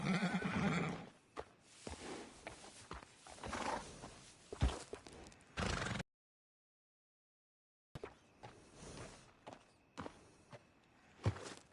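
A horse in Red Dead Redemption 2 whinnies loudly near a stable, followed by clip-clopping hooves and footsteps, with a short silent gap before the hooves resume.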